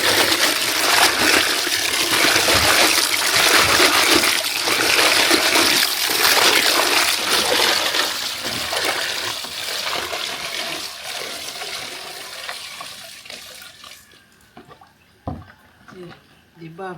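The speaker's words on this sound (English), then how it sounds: "You wash it very well." Mango leaves are rinsed under running water, a steady gushing splash that fills most of the stretch before cutting off near the end, leaving a few faint drips and handling noises.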